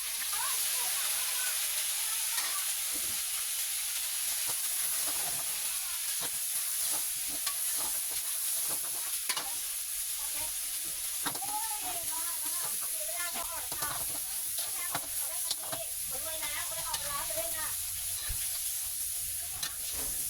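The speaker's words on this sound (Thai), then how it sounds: "เอาปูของเราลงไปทอดก่อนครับ" Steady loud sizzling of crab frying in hot oil in a pan, with crackles and pops and occasional stirring scrapes throughout.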